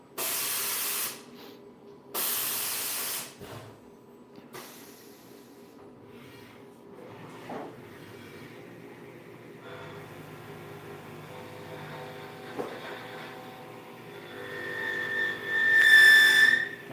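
A CNC milling machine runs on a production job, opening with two loud bursts of air or coolant spray, then a low machining drone that builds into a harsher, rising whine with chatter toward the end.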